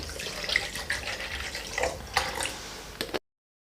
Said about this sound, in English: I'll go ahead and add water into my baby cook